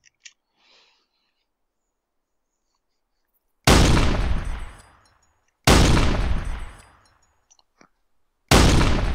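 Gunfire in the video game Arma 3, three loud separate shots after near silence, each with a long echoing decay that rings out over about a second.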